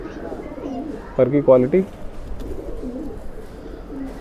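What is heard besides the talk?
Madrasi breeder pigeon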